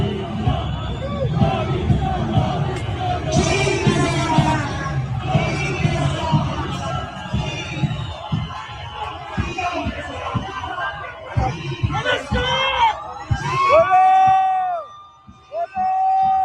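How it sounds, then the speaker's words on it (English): A large crowd at a street protest roars and chants continuously, with shouting voices rising and falling and a few sharp cries near the end. "They're all cheering him on."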